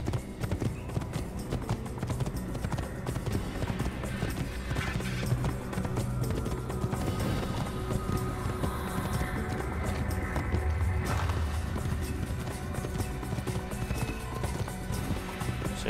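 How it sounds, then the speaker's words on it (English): Horse hooves clip-clop in a steady galloping rhythm during a ride in the Assassin's Creed video game, continuous and moderately loud, with occasional faint game sounds in the background. "And we go on a little horse ride."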